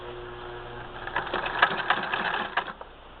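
A 1934 Singer 99, a smaller vintage machine, sews with a steady mechanical whir that swells into a louder, faster run of stitching midway before easing off, close and alone.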